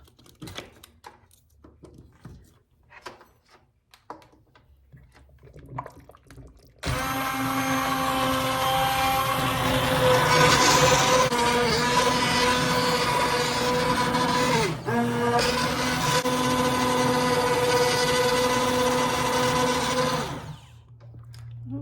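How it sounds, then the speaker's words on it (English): A few quiet knocks and clatters, then a loud immersion blender whirs steadily through tomato soup for about fourteen seconds with a brief dip midway before cutting off. "I used the immersion blender, of course, as you saw, in to make it nice and smooth."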